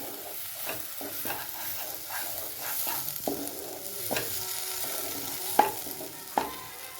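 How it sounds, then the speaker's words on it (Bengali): Green peas for kochuri being stirred in a pan to dry off their water: steady stirring and a light sizzle, with sharper scrapes of the spoon against the pan at irregular moments. "এটাকে আস্তে আস্তে নাড়িয়ে নাড়িয়ে এর গায়ে জলটাকে শুকিয়ে আনতে হবে।"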